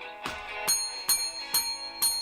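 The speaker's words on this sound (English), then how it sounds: "The dinner bell has been rung." A dinner bell rings five times at a steady, even pace, each strike bright and ringing with a short shimmering decay before the next.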